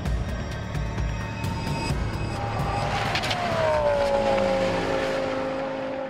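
Audi WRT race car at the Spa 24 Hours, its engine wailing at high revs and then a downshifting, falling pitch as it passes, loud and continuous over trackside noise.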